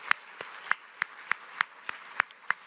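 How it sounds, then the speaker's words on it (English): Sparse, faint applause at a marketing outlook meeting in DC, heard as single sharp claps spaced evenly about every third of a second. "Give that team a big round of applause."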